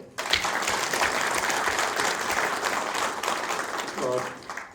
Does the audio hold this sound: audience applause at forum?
yes